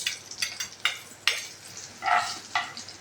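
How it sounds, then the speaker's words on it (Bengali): Whole black cumin seeds sizzle in hot mustard oil, a close crackling fry with bursts of spattering that swell and fade in several waves, alone without talk. "এবার এর মধ্যে আমি গোটা কালো জিরেটা দিয়ে দিলাম।"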